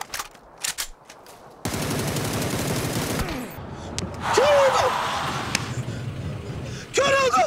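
Gunfire from a bot in PUBG on the Sanhok map, with scattered single shots and then a long sustained burst of rapid automatic fire. Someone talks over the shooting.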